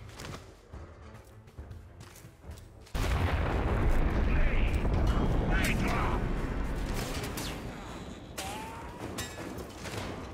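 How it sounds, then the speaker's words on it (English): Explosions in Warframe: after a quieter stretch of scattered shots, a loud blast erupts and rolls into sustained booming and gunfire for several seconds, then eases as a voice speaks. "It was literally exploding around there."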